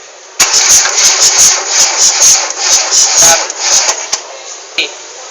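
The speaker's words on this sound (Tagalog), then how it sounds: "papaandarin muna natin yung makina" An engine cranks and catches during a compression test, then runs close and loud with a rough, pulsing rhythm.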